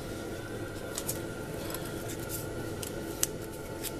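A small piece of tape being cut or torn during a metal etching job: a few quick, faint snips and crisp ticks over a steady room hiss.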